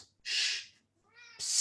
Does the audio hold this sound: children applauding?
no